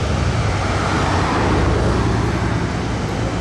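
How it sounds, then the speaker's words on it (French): A Bugatti Veyron Grand Sport Vitesse supercar pulls away at a car meet with a loud, steady engine roar and road rumble that swells slightly midway, heard close with no talking. "Ça y est, le départ de la Bugatti Veyron Grand Sport Vitesse."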